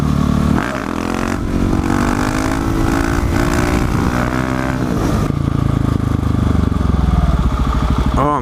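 A small 250cc motorcycle engine revs and drones close by from a rider's vantage, its pitch rising and holding steady before a shift in tone near the end, loud and continuous with no talk.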